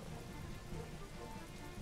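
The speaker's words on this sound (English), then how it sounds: "Ooh, rain. I love the sound of rain." Rain falls steadily in the fantasy strategy video game Regalia: Of Men and Monarchs, a constant soft hiss of drops with no pauses over the whole stretch.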